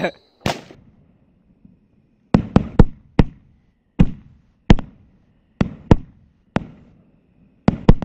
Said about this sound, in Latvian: Tur arī no visām pusēm salūts.